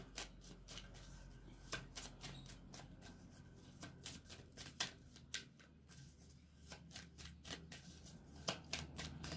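Tarot cards being shuffled by hand, a quiet close series of crisp riffling flutters and slaps in uneven bursts, with no talking.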